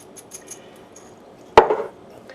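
A ham lands in a metal roasting pan with one sharp, clanking knock and a brief ringing rattle, following a few quiet taps and shuffles in a home kitchen.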